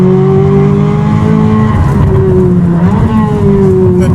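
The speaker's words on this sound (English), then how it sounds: "The whole range of this exhaust. It sounds so incredible." A loud engine in a Chevrolet Corvette C8 Z06 revs through an AWE SwitchPath exhaust, with a droning, tonal note that rises and dips, close and powerful throughout.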